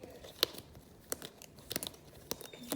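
Cards being shuffled for the Arkham Horror 3rd edition board game make sharp papery riffles and snaps in short irregular bursts, close by, with quiet gaps between.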